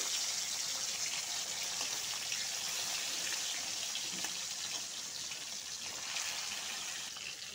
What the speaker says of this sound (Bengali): তেলটা গরম হয়ে গেছে, এখন মাছটা ঢেলে দেবো। মাছটা ভেজে নিব।